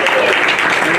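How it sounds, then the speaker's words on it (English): Loud, close applause from an audience fills a brief moment, with a voice carrying over the clapping. "A big round of applause for Bobby."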